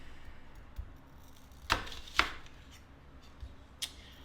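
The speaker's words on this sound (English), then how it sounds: "Now we're going to slice up our onion." A knife slices an onion on a cutting board for Jamaican curry chicken, giving a few sharp, close chops spaced irregularly over a quiet background with no speech.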